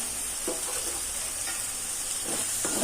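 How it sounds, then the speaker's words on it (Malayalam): Curry masala for fish curry fries in a pan, a continuous bright sizzle with a few soft stirring scrapes, close up and without speech. "നമുക്ക് അതിൻ്റെ പച്ച പോണ കാര്യങ്ങൾ ഇളക്കി കൊടുക്കുക"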